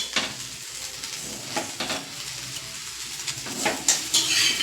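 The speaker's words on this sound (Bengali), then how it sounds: "ওই ভাজা হচ্ছে" Pulao sizzles in a hot pan on a home stove while a spatula stirs and scrapes against the metal in irregular strokes, frying hiss continuous throughout.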